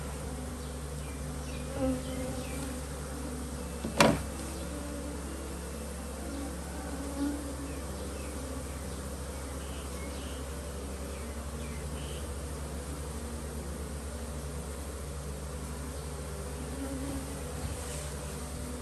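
Wild cavity-nesting honeybees swarm around an open hive in Khao Yai, making a dense, steady buzz that fills the whole stretch, with a few brief knocks and rustles on top.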